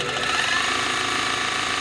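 An old Consew 201R walking-foot industrial sewing machine runs steadily while winding a bobbin, its motor giving a loud, continuous mechanical hum and rattle throughout, close and unbroken.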